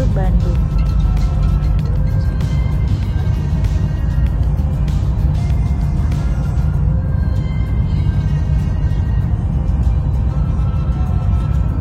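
A bus rumbles along on the ride home to Bandung, its engine and road noise forming a loud, steady drone from start to finish.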